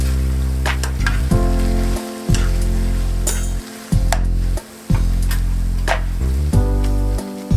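Pasta being stirred in a single pot after grated Parmesan goes in, a busy wet sizzle with repeated scraping strokes and thick, sticky churning, close and steady throughout with no voices.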